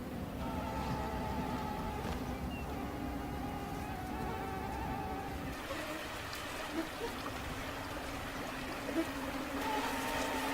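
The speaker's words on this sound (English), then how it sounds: "Mosquitoes." A thin, persistent whine of mosquitoes hums continuously, close and faint, with soft background noise and no speech.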